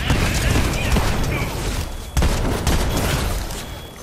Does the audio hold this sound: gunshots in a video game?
yes